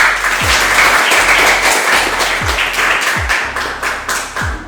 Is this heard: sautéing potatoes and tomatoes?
no